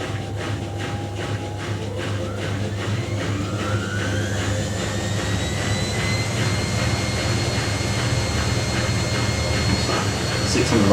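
A Miele W Classic WDA210WPM washing machine spinning at 600 RPM on a Minimum Iron 60ºC cycle gives a loud, steady whirring drone with a rising whine that climbs as the drum speeds up, continuous throughout.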